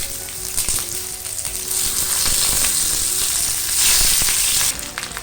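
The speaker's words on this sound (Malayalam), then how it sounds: "പൊതിഞ്ഞു വെച്ച കരിമീൻ വെച്ച് കൊടുക്കാം." Pearl spot fish wrapped in banana leaf sizzles loudly in a pan, a dense crackling hiss with scattered pops that grows stronger midway and eases slightly at the end, no voices.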